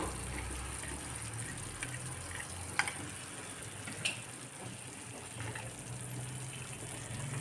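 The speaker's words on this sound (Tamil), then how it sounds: "இன்னும் கொஞ்சம் நெய் ஊற்றிக்கிடுவோம்" Ghee is poured into a pan of cooking Bombay halwa, giving a steady broadband sizzle and gush throughout with a couple of faint clinks, close and without talk.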